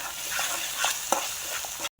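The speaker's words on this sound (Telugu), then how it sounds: "నూనె బయటికి తేలేదాకా వేయించుకోవాలి." Green chillies with chilli powder, coriander powder and salt frying in oil for egg gravy curry, a steady broadband sizzle with soft stirring scrapes, close and fairly loud, cutting off abruptly near the end.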